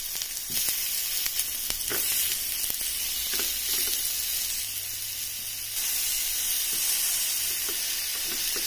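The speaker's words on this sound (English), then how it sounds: "I add an olive oil and sizzle in these slices." Steady, loud sizzling of watermelon slices frying in hot olive oil in a pan, a continuous crackling hiss with faint clicks, close by and without voices.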